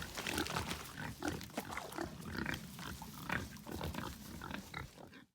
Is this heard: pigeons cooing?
no